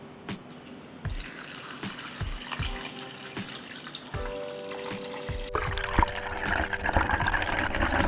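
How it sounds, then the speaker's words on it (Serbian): Water runs from a tap into a cooking pot holding glass jars set on a cloth, a steady splashing stream with a few dull knocks, the pitch of the fill shifting as the level rises. "Sada ću u šerpu sipati vodu do visine poklopca"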